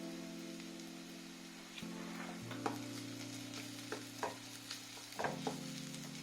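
Half-fried onions sizzle quietly in a pan with ginger garlic paste for a spicy egg onion fry, with occasional soft stirring taps over a steady background hum.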